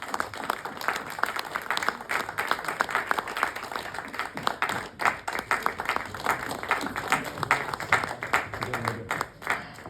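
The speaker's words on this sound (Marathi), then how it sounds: "पूजा सावंत यांच्यासाठी जोरदार टाळ्या झाल्या पाहिजे." A crowd applauding actress Pooja Sawant at a film launch event, dense irregular clapping sustained for about ten seconds, fairly close, with voices faintly mixed underneath.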